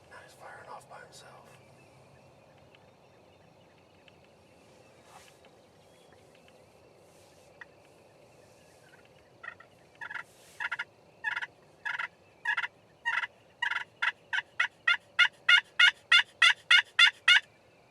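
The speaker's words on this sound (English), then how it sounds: "Oh, he's gobbling his head off." A wild turkey gobbles on an opening-weekend hunt in Kentucky, first faint and distant, then a long run of loud, rapid gobbles repeating faster and closer near the end, with a little soft whispering early on.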